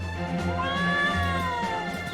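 A cat in the Trials of Mana game gives a drawn-out, wavering meow over a continuous background of game music.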